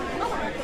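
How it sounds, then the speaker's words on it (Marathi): A busy market crowd fills the air with dense, overlapping chatter, many voices blending into a steady murmur close by. "गर्दी किती आहे बघा याच्यात."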